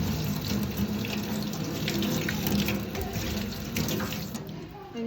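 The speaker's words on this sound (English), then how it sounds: "Rinse it off." Copper plate rinsed under a running tap: a continuous, close splashing rush of water that stays steady for several seconds, with no talk.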